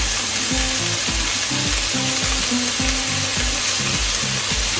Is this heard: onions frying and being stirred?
yes